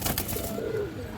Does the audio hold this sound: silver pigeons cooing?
yes